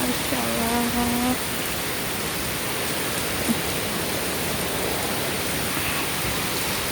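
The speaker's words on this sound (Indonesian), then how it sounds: "Hujannya Masya Allah." Heavy rain pours steadily in a Hong Kong park, a dense, even hiss close around, with a short voice at the start.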